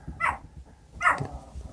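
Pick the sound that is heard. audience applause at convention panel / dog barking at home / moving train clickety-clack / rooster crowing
dog barking at home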